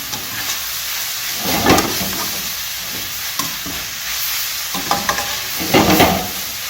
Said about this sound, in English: We're going to stir fry this together for a short while